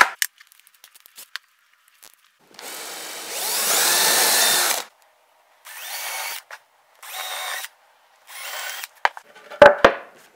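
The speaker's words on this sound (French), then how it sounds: "je vais prendre un foret de 3 mm, mes vis en font 4 de diamètre" A drill fitted with a 3 mm bit bores holes in wooden boards, running in one long burst followed by three shorter bursts, fairly loud and close, with a few clicks and knocks at the end.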